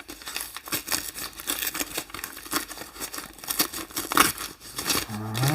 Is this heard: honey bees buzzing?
no